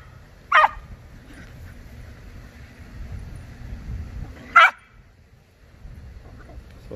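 A dog barks twice on command, two sharp, loud single barks about four seconds apart, outdoors with a low background rumble between them.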